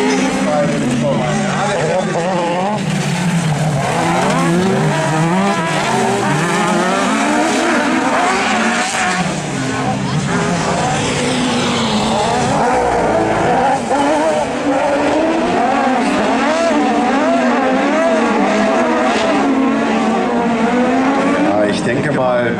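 Buggy 1600 race cars roaring around a dirt track at a Seelow autocross heat, engines loud and continuous with skidding tires, under steady German race commentary throughout.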